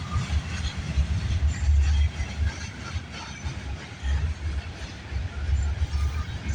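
A CN/CP freight train rolling past trackside in Milton, Ontario, a continuous heavy low rumble with rhythmic surges as cars pass, fairly close and loud.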